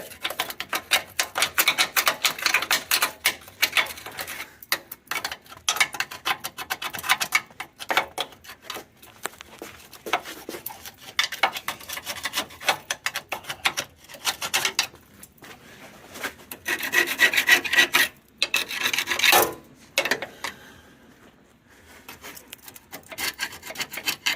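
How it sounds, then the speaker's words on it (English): Debris is scraped from around and inside the cam tabs of a car underbody in a garage, a close, rough rasping scrape in rapid repeated strokes with brief pauses. "Scraping around the cam tabs and up inside the cam tabs."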